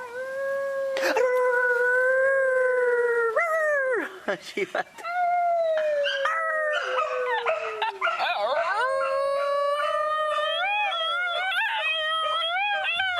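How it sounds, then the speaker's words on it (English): Loki, a Basenji dog, howls with a long warbling yodel that slides up and down in pitch, breaking off briefly and then resuming with rising, wavering cries, close and loud. "This is Loki, the yodeling Basenji dog"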